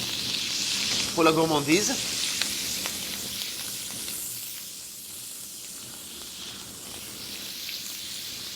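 Butter sizzles in a hot pan with scallops, a loud close steady hiss that slowly eases; a voice speaks briefly near the start over the frying.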